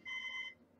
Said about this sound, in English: I don't mind if the alarm is going off now